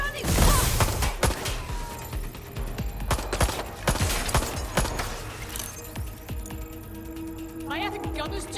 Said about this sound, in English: Getting shot out here!